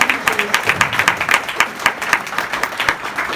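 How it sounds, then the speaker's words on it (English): An audience applauding two long-term teachers at a school event, with dense, fairly close clapping that swells and pulses steadily throughout, no talk over it. "big round of applause for these two"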